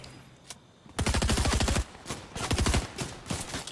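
Bots firing guns in a video game: rapid automatic bursts, a long close burst then several shorter volleys with brief gaps, loud and dominant with no talking.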